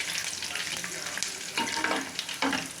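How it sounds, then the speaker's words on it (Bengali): A bay leaf, white cumin seeds and whole dry chillies sizzle in hot oil as a tempering for a boal fish curry, a close, steady crackle with a few louder stirring scrapes toward the end. "এই তেলের মধ্যেই আমি একটা তেজপাতা, কিছুটা সাদা জিরে আর গোটা শুকনো লঙ্কা"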